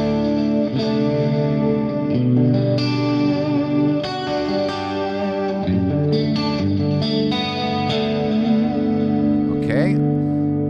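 Electric guitar played through a Fractal Axe FX3 on a clean channel with a pitch effect used like chorus, shimmering chords and picked notes with delay-like echoes, loud and close.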